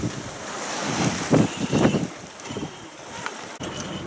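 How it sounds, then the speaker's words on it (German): Wind rushes over the microphone while waves slosh and splash against a sailboat beating upwind off Croatia, with a few louder surges in the middle. "Wir haben den Wind gegen uns,"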